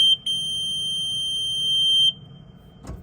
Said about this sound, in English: sorry for this obnoxious beep